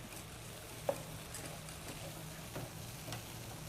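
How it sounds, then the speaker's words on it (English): Corn being stirred in a pot, a quiet scraping and sizzling with a few soft knocks of the spoon, faint and close, no talk. "I'm going to go behind you to stir the corn"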